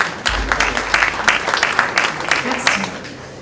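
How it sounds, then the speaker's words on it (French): A room of people claps for Florence Cayol, head of training at the Tarn chamber of commerce, in a burst of quick, uneven hand claps that carries on at moderate loudness with some voice underneath. "Vous pouvez l'applaudir."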